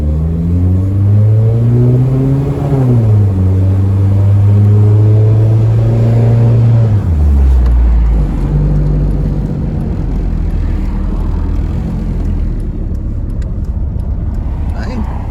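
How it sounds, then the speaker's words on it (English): A Mitsubishi Eclipse engine revs loudly and close, the pitch climbing and holding, then dropping sharply as the car drives off, leaving a steady road rumble. "It's a good running little car."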